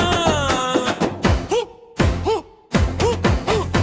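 A voice imitates a cow's moo, with several drawn-out lowing calls in a row, surrounded by brief stretches of expressive vocal sound.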